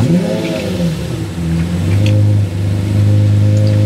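A Lamborghini engine revs loudly and close up, its deep throaty tone holding steady and then climbing in pitch as the throttle opens, with no voices present.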